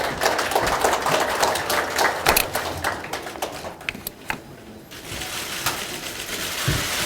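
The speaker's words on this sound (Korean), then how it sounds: "여러분 큰 박수 부탁드리겠습니다" Indoor audience applauds at a Korean award ceremony honoring a Beijing 2022 short-track speed skating gold medalist: dense, steady clapping for about seven seconds that thins briefly midway, then swells again, with no talking.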